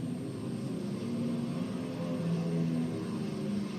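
Marine fighter planes taking off from an island airfield during a World War II Japanese attack, a steady loud propeller engine drone swelling slightly, with no talk.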